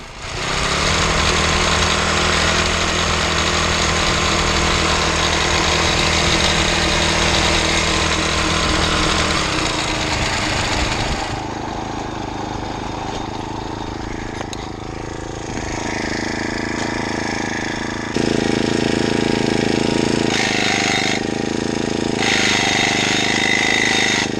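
Small BBR 38cc four-stroke friction-drive bike engine running loudly and steadily, then dropping to a lower idle before revving back up in stages, with no talk.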